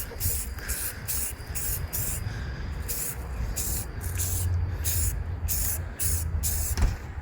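Automotive filler paint sprayed in steady hissing bursts, several spaced passes with short gaps between them, close and fairly loud over a low background rumble.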